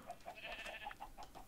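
A sheep in the video game Minecraft bleats in a short, wavering cry made of several quick pulses, close and clear with no talking over it.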